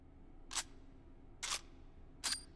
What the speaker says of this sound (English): you can lock back the bolt